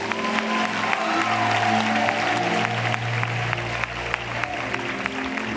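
A church congregation clapping steadily in acclaim of Jesus Christ, a broad, continuous wash of applause from a crowd, loud and sustained, with a low hum underneath.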